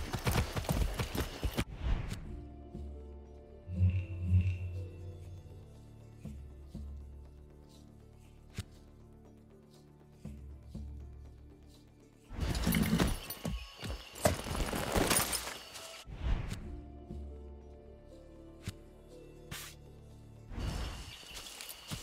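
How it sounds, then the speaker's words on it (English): Horse hooves clip-clopping in Far Cry 6, coming in bursts of rhythmic trotting separated by quieter stretches with faint ambient game sounds. "I'm just gonna mount the horse and ride there."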